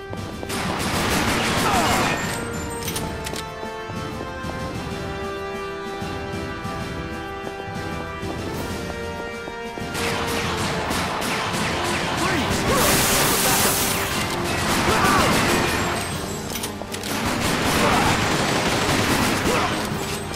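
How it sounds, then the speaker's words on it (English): Machine gun fire in the Time Crisis 4 arcade shooter, long loud bursts of rapid shots with crashes and impacts mixed over game music, pausing briefly before resuming in heavy volleys. "Machine gun."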